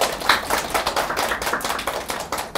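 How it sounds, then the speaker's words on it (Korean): A lecture audience at a special HSK Chinese exam prep class claps together in a quick, fairly even rhythm, a sustained burst of close hand claps with no talking. "네, 다 같이 박수를 시작해보죠."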